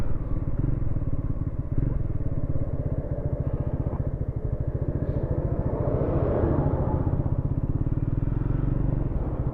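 A Triumph Scrambler motorcycle engine chugging at low revs around 2000 rpm in traffic, a steady, close, even low throb with a faint rattle and no one speaking.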